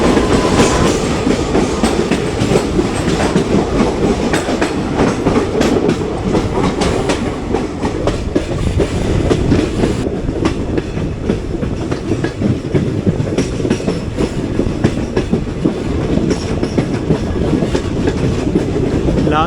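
Ernakulam–Pune Poorna Express (11098) running on track near tunnels, a loud continuous rumble with steady clickety-clack of wheels over rail joints, close by and unbroken throughout, no voices.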